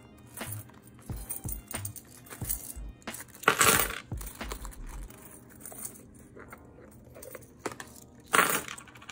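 Loose change coins are handled nearby, with quiet scattered clinks and jingles in irregular bursts and a couple of brighter spills of metal against metal.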